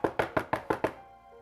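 Six quick, evenly spaced knocks on a door ring out close and firm in a tight, steady rhythm, then stop, leaving a faint fading resonance.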